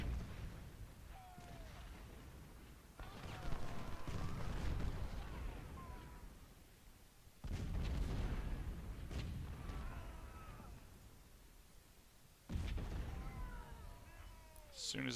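Artillery batteries firing in the Civil War strategy game Cedar Mountain, with repeated heavy booms and rumbling bursts spaced several seconds apart over a steady battlefield din, mid-distance and loud.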